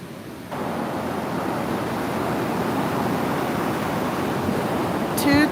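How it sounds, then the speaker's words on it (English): Big ocean waves break at a beach in a steady, loud, broad wash of surf that swells in and holds, with a brief voice near the end. "there's some pretty big waves to be a strong swimmer and surfer to do these waves"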